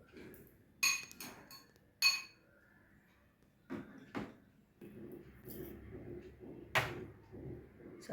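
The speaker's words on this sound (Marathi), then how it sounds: "आता आपण हे दही आहे याच्यामध्ये मीठ साखर घालून हे फिटून घेणार आहोत" Sparse spoon clinks and taps against a bowl as curd is whisked with salt and sugar for fasting-style dahi vada, the strikes irregular and close, with soft scraping between them.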